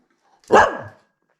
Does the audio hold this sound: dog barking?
yes